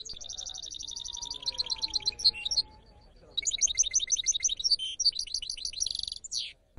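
Songbirds such as goldfinches and similar finches singing close and clear, rapid bright chirping trills in two long bursts separated by a short pause, with faint low background noise.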